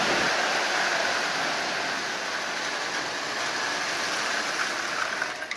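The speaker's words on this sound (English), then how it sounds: "turning it into a running locomotive that's not only running well" Restored Marx 666 toy steam locomotive running, a dense steady whirring rumble with a hissing wash over it, close and continuous, fading slightly at the end, no voices.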